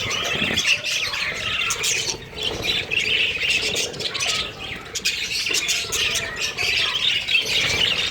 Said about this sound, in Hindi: और मेरे ऊपर गिर रहे हैं सारे तोते।